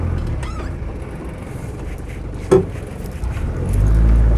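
A Land Rover 110 non-turbo diesel hardtop with power steering drives along, its engine a low steady rumble with a brief knock midway and a deeper swell of engine noise toward the end.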